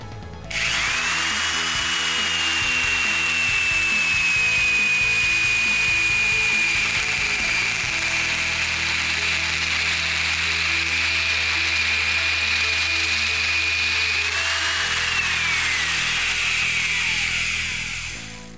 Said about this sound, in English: we can move the arbor block forward to reduce our chatter, and we can complete our 45 degree notch